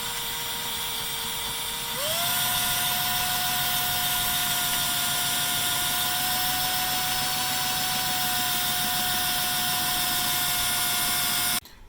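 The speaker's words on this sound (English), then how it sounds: "we're going to drill a hole in the tubing there" A power drill whines steadily while boring a hole through copper tubing for a homemade alcohol stove, its pitch jumping and rising at the start, then holding a constant high motor drone for about ten seconds before stopping.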